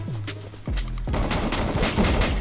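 Rapid gunfire in the game Free Fire: a short burst of shots, then a dense, loud fusillade of automatic fire that continues to the end, with no talking over it.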